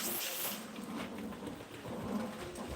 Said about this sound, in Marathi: खूप जास्त पाऊस पडत आहे